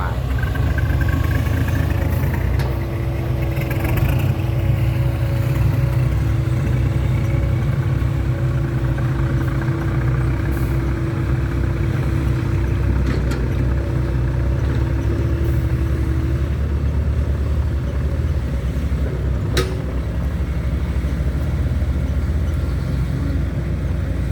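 A tractor engine runs steadily near a pond, a constant low drone with a faint whine that goes on throughout, while a voice talks over it now and then.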